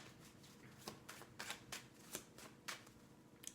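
Tarot cards are shuffled by hand for a reading, a series of soft, close riffling bursts at a quiet level with no talking.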